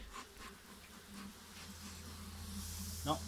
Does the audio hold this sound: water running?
no